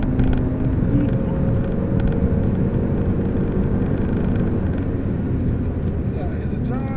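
A Genesis track taxi driving on the Nürburgring Nordschleife, steady engine drone and road roar heard from inside the car, loud and continuous with a speaking voice over it.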